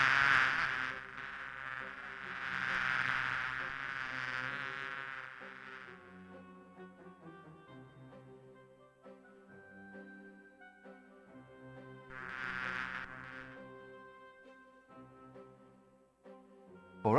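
Bees buzzing in Discworld II, a steady insect drone that swells loud for several seconds, fades under a background melody, then rises again briefly, with no speech.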